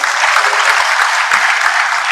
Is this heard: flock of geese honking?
no